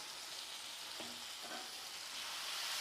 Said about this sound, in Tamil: சேர்த்துட்டு இதையும் நல்லா வதக்கிடலாங்க.